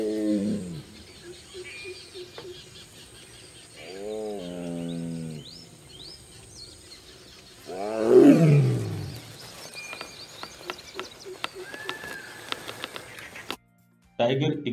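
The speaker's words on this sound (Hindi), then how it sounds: "जैसे यहाँ एक टाइगर दहाड़ रहा है।" A tiger roars, a couple of deep rumbling vocal bursts followed by a louder, harsher roar, with other wild animal and bird calls in the background.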